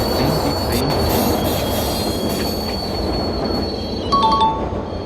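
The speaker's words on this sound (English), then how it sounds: "Karthik, bring the train." A train pulls in with steady rolling rumble and high wheel squeal, loud and continuous, with a few brief clicks near the end, in the Indian Train Simulator game.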